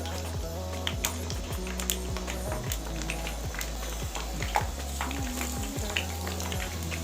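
Potato bread sandwich pieces fry in hot oil, giving a steady close sizzle dotted with sharp little pops and crackles.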